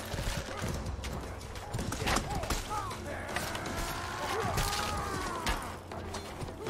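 Horse in the medieval combat game Mordhau, galloping hooves clip-clopping amid battle clatter, with drawn-out neighs rising and falling midway, under a busy, loud mix.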